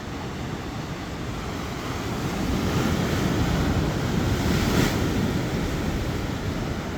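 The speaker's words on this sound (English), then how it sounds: "The waves hitting these rocks here." Ocean waves crash against rocks along a coastal trail at Punta Brava in Ensenada, Mexico, a steady, loud roar of surf that swells midway, with wind noise over the microphone.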